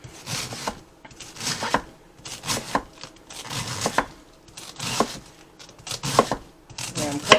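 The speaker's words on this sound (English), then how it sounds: "I'm cutting this in julienne style because I want it to be like somewhat like a noodle or a pasta" A knife chops cabbage into julienne strips on a cutting board, giving repeated crisp, crunchy cuts in bursts at close range, with faint talk in between.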